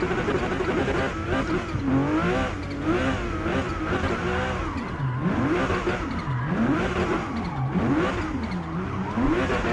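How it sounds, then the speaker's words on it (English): A Porsche in the Forza Motorsport racing game revs hard while drifting, its engine pitch rising and falling in repeated loud sweeps, with brief tire squeal, sustained throughout with no talk. "This Porsche is not built for drifting out of the box."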